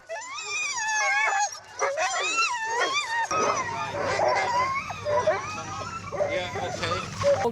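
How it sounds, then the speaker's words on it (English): A pack of eager sled dogs outdoors in a snowy Lake Louise setting yips, whines and barks excitedly before pulling a sled, loud and continuous, with a person talking among them. "the dogs that are prepared to go sledding are eager to pull the sled"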